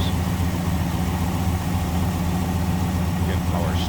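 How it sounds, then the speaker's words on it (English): A 1957 Pontiac Star Chief Catalina V8 idling smoothly, a steady, even low rumble with no revving, close and constant throughout, with a faint voice briefly audible near the end. "Just listen and look at how smooth this thing"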